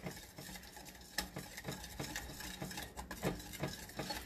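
A whisk beating a thickening Irish sea moss mixture in a bowl, with quiet, uneven scraping and tapping strokes that repeat steadily throughout, close and soft.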